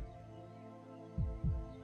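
Heartbeat sound effect in a high-fantasy audio drama: two deep, thudding low beats arrive near the end of a quiet, humming ambient bed, close and fairly strong, with no voices.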